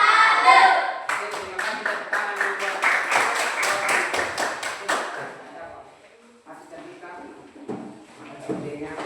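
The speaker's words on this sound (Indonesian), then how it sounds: "Tepuk tangan dulu buat" A classroom of students claps their hands, a burst of many quick, bright claps that builds and then fades out after several seconds, followed by a quieter stretch with a voice speaking.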